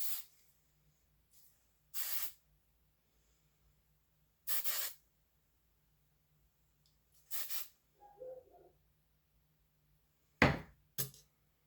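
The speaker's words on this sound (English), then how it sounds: "hairspray the rest of it" Hairspray misted onto a vintage poodle's coat in several short separate bursts, each a crisp hiss near the mic, with quiet gaps between and a faint low hum underneath.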